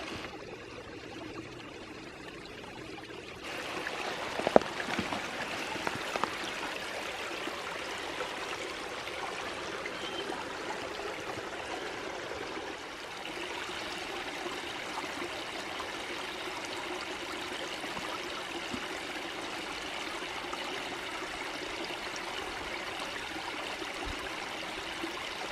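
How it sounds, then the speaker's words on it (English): A small forest stream spills over little cascades in Bankhead National Forest, Alabama, giving a steady broadband rush of running water that grows fuller after a few seconds and holds at a constant, fairly close level. "Now we're getting to these little slips and spills, which is cool. These little mini cascades."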